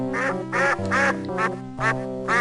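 Cartoonish ducks quack in the point-and-click adventure game Simon the Sorcerer, five loud nasal quacks in a steady rhythm over a droning game music bed.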